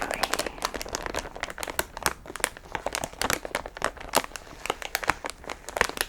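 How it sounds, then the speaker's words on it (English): Snack packets are handled and squeezed, making dense, close, crisp crinkling and crackling in rapid irregular bursts with no talking. "There's a lot of crinkles. Snacks are often very crinkly."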